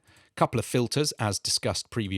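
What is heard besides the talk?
None of the usual background noises is heard.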